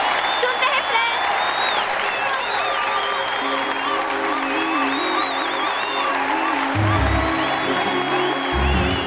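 A college audience in a South Indian action drama dubbed in Hindi applauds and cheers, with crowd clapping and whoops mixed under music and brief voices.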